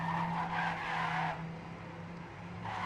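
Race cars in a racing video game, tyres skidding and squealing in a sustained screech over a droning engine hum, loud at first and then easing off before rising again.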